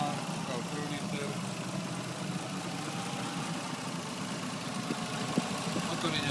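A Mitsubishi Pajero 3.5 V6 24-valve DOHC engine idles smoothly without knocking, a steady, even, close mechanical hum that runs unbroken throughout.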